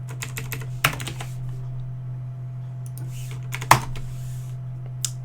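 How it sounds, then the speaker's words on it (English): A computer keyboard is typed on hard, with fast bursts of clacking keys and a few loud, heavy keystrokes. It sounds close, over a low electrical hum, and no one speaks. "My poor keyboard. I just like pound this."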